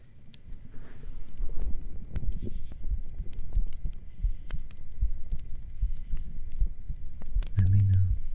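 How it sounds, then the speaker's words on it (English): A close, steady heartbeat in a binaural ASMR recording: soft, regular low thumps repeating evenly throughout over a faint background hum. "Okay, let's do some heartbeat."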